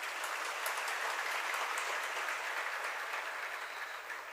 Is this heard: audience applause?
yes